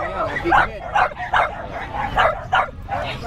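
Small dogs, a French Bulldog or Corgi, bark and yip in a rapid series of sharp calls close by, six or seven bursts over steady background chatter from people nearby.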